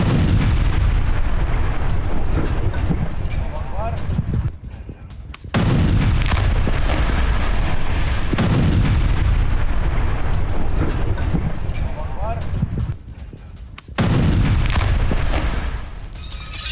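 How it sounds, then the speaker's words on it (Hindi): Heavy Israeli bombardment striking Hezbollah positions in southern Lebanon, with loud, rumbling blasts and booming bursts rolling one after another, punctuated by brief gaps between rounds of explosions. "हिजबुल्लाह के ठिकानों को धमाके से उड़ाया गया।"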